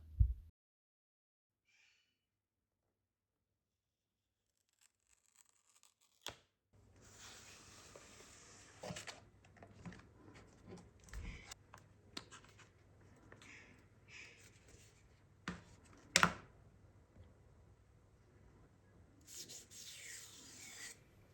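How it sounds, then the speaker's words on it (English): Unboxing an Apple Pencil: after a few seconds of near silence, soft rubbing and sliding of cardboard and packaging fills the rest, with occasional sharper taps and clicks close by, all fairly quiet and with no talk. "let's switch to the Apple Pencil and open it up."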